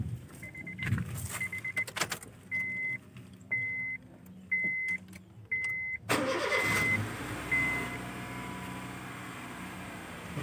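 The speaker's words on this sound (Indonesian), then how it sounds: "Untuk tune up-nya sekarang coba kita starter" After a tune-up and carbon clean in a car workshop, a car sounds a series of evenly spaced warning chimes. The engine then cranks and catches partway through and settles into a steady running sound, close by with no talk.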